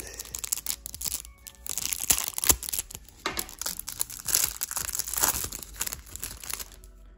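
Packaging for Between Two Castles of Mad King Ludwig bonus cards is opened by hand, giving close, irregular plastic crinkling and tearing with short rustling bursts throughout.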